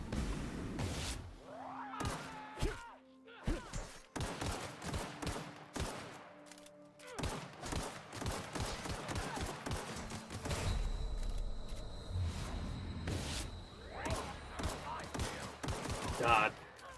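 Rapid volleys of gunfire from The Outer Worlds video game crack and thud in clustered bursts across the whole stretch, loud and close, with game voices talking beneath them.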